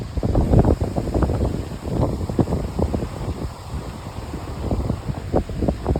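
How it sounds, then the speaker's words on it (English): Gusty wind buffeting the microphone outdoors with rustling through trees, loud irregular rumbling bursts and a faint steady whine in the background, no voices. "Why is the wind blowing this way?"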